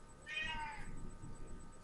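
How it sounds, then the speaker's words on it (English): A pet cat meows once, faint and somewhat distant behind a quiet room hum, a single drawn-out cry fading after about half a second. "yes, that's my cat in the background."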